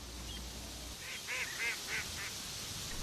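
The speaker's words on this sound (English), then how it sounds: "The next native water bird we saw was the Hawaiian duck called koloa." A Hawaiian duck (koloa) at a wetland gives a short series of four or five honking, nasal calls at moderate distance over steady outdoor background noise.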